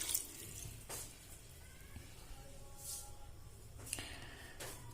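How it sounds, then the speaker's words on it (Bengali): Water saved from boiling peas is poured into a pan of ghugni, a faint liquid trickle and splash with a few brief clinks, quiet and close, with no talking. "এবার আমি ঘুগনি সেদ্ধ করে রাখা যে মটর সেদ্ধ করে রাখা যে জলটা ছিল সেটা দিয়ে দিচ্ছি"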